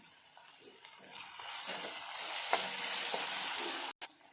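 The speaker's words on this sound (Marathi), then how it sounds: "इथे आपण आता टमाटर टाकून घेणार आहोत आणि हे टमाटर इथे छानपैकी आपल्याला शिजवून घ्यायचं आहे" Tomatoes for a ridge gourd dal frying in a hot pan, a soft sizzle that builds and then holds steady with a few light stirring scrapes and a brief click near the end.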